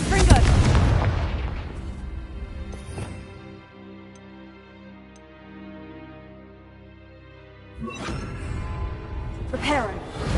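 Spell explosions from the Confringo blasting curse in the video game Hogwarts Legacy: a loud booming blast at the start, then a quieter stretch with game sounds, and two more sharp bursts near the end.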